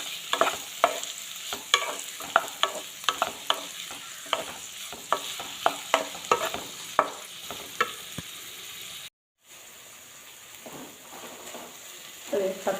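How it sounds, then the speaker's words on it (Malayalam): Tomatoes and curry leaves sauté in a pan for a tender jackfruit masala curry, with a soft continuous sizzle broken by repeated sharp scraping stirs of a spoon, then a short break before the sizzle resumes. "ഈ തക്കാളി ഒന്ന് സോഫ്റ്റ് ആവുന്നത് വരെ ഒന്ന് വാട്ടിയെടുക്കണം"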